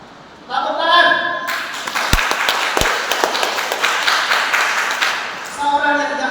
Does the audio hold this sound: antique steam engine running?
no